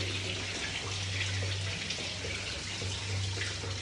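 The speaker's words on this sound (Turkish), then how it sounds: "Şimdi suyunu boşaltıyoruz." Water draining from a hydrophore pressure tank, a steady broadband rushing gush with a low hum underneath, continuous and fairly close for the whole stretch with no talking.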